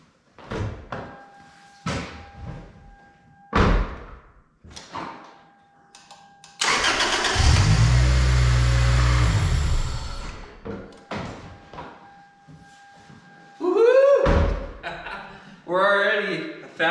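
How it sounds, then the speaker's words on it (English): A Toyota Celica engine fires up after a head and timing chain repair, with a cranking burst then a loud steady idle for several seconds, preceded and followed by door clunks and workshop knocks nearby. "Let's go ahead and try and fire this up and keep our fingers crossed."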